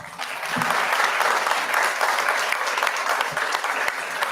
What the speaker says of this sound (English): Let's give each of these players a round of applause.